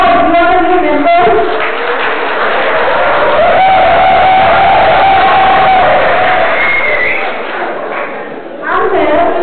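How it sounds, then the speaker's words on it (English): Students at a college orientation day cheering and clapping, a loud crowd roar with whoops and shouts that swells and holds throughout, with voices mixed in. "Please give a big round of applause"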